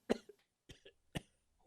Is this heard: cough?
yes